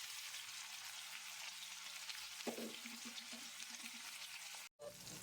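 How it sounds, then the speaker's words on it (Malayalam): Pieces of seer fish coated in green masala fry in a pan with a soft, continuous sizzle, fairly quiet and close, with faint stirring taps partway through and a brief dropout near the end. "നല്ലപോലെ മസാല പിടിപ്പിച്ചിന് നല്ലപോലെ ഫ്രൈ ആവണം."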